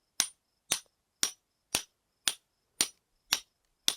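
A hammer drives a chisel into rock along a gold ore vein. Eight sharp, evenly spaced metallic strikes ring out about every half second, each dying away quickly into silence.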